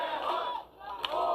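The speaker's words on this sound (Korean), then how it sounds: "지지자들은 오세훈을 환호하고 있고요." Supporters cheering and shouting for Oh Se-hoon as he arrives, a sustained crowd roar that briefly dips and then swells again, with a sharp shout or clap standing out near the middle.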